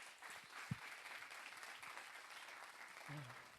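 A lecture audience gives a long round of applause to welcome a university professor to the stage. The clapping is steady and even but soft and somewhat distant, with a faint voice near the end.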